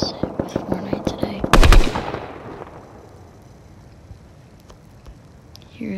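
Gunshots in Fortnite ring out as a quick series of about a dozen evenly spaced sharp cracks, then a heavy explosive blast that fades out into quiet.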